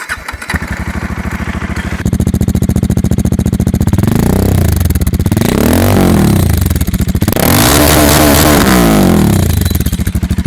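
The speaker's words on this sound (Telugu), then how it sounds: "ఒకసారి ఇప్పుడు డీబీ కిల్లర్ తోటి డీబీ కిల్లర్ లేకుండా మీకు ఎగ్జాస్ట్ నోట్ అయితే వినిపిస్తా" A Dominar 400 motorcycle with an Akrapovic exhaust and dB killer starts and idles with a loud, close, thumping single-cylinder note, then revs up twice in rising and falling sweeps.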